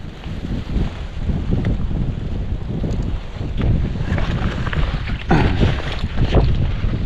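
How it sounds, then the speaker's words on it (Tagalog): Strong wind gusts buffet the microphone outdoors on a farm, a steady broadband rumble with louder bursts near the end, no voices. "Ito malakas yung hangin, no?"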